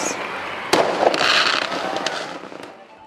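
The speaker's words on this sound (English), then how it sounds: "We'd always end up with a grand display of fireworks" Fireworks at a seaside regatta display burst close and loud, with a sharp bang followed by crackling bursts and a fading rumble.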